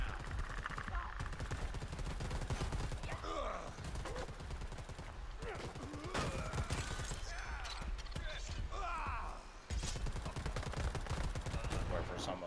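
Gunfire in the multiplayer game Predator: Hunting Grounds, dense bursts of automatic shots and rattling fire running continuously, loud and close, with a player's voice talking over parts of it.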